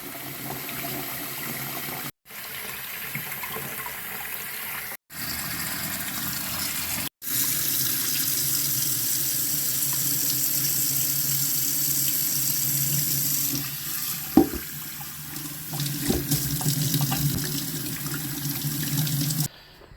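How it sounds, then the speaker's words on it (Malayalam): Water runs in a steady stream into a vessel of arrowroot starch during home preparation. The flow breaks off briefly three times early on, then pours continuously at a moderate, close level with a few faint knocks near the end. "വെള്ളം വീണ്ടും ഇതിലേക്ക് ഒഴിക്കുക കേട്ടോ"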